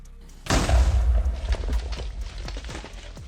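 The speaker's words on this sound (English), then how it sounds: "Flick the lever once in order to bring a charged creeper down. When he shows up, you can either turn it off or just allow him to explode." A charged creeper in the Minecraft video game explodes in one sudden, deep boom after a brief quiet, followed by several seconds of crackling, popping debris fading out.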